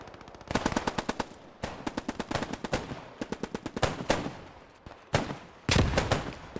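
Machine gun fire in the video game Post Scriptum, several loud, rapid bursts of shots hammering close by in quick rhythmic strings, separated by brief pauses, with no talking.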